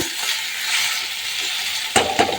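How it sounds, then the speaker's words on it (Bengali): Potato and bitter gourd fry in a pan with a steady, loud sizzle, followed near the end by a few sharp clinks of a utensil stirring against the pan. "আর এই যে আলু উচ্ছে ভাজা করছি,"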